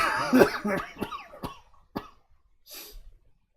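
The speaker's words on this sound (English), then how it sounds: "I'm sorry, what did you start coughing on?" A burst of several harsh coughs, close and fairly loud, tapering into quieter single coughs and a soft breath at the end.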